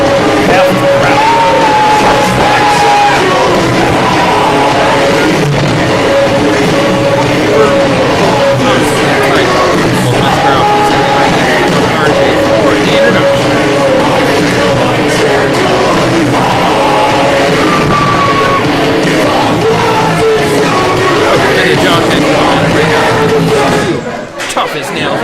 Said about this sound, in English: This capacity crowd here in Coast New York is squarely behind Axel Hall here tonight